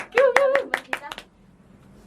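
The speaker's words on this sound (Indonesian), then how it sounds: "Boleh tepuk tangan?" Several sharp hand claps ring out in a quick, uneven burst in a podcast studio, close and loud, mixed with a voice speaking over them before the sound trails into quiet.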